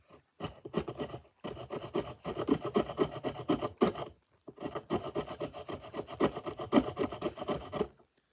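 A Mora Garberg knife spine scrapes wood into shavings in repeated rasping strokes, close and fairly quiet, with short pauses between rhythmic bursts of scraping.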